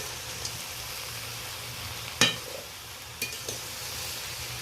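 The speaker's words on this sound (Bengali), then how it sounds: "তেলাকোচা শাকগুলো ভালো করে আমি নেড়ে নিচ্ছি" Ivy gourd leaves and crab being stirred in a frying pan, a low steady sizzle broken by a sharp metallic clink of the spatula and a few softer scrapes.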